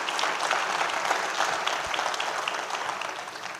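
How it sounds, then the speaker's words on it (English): Steady applause from an audience at a civic week kickoff event for the mayor, dense continuous clapping close by, filling the whole stretch with no voices over it. "Let's give it a round of applause for our amazing mayor again."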